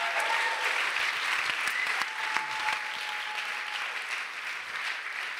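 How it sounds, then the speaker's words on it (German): A sustained round of applause from an audience after a personal life story is shared, steady and fairly loud, with faint voices underneath. "Können wir noch einen riesen Applaus geben."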